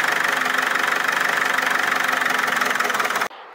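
A Holden car engine, freshly refilled after a 6T40 transmission service, idles loudly and steadily with a low, even throb, then cuts off abruptly just before the end.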